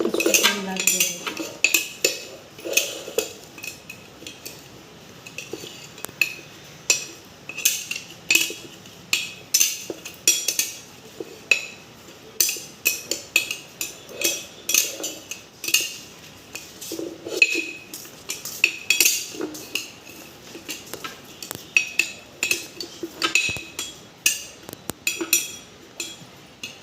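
Raw mango pickle is stirred in a bowl, a steady run of clinks and scrapes of spoon against dish, moderately close, with faint talk here and there.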